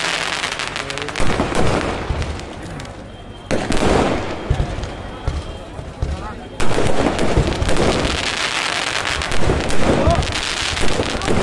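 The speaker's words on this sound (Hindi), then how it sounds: "मेरी आतिशबाजी स्टार्ट हो गई देखो गाइस यहाँ" Fireworks bursting at a Dussehra Ravan effigy burning in Bhowali, Nainital: dense crackling and booming explosions in loud clusters with brief lulls, crowd noise and voices underneath.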